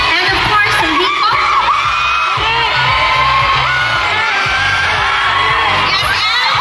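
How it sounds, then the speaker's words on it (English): An audience celebrates the team behind Under Parallel Skies with steady, loud crowd noise, whoops and cheering over a dense roar throughout, with shouting voices mixed in. "a big, big round of applause for the people behind Under Parallel Skies"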